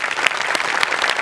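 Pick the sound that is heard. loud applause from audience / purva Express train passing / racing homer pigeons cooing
loud applause from audience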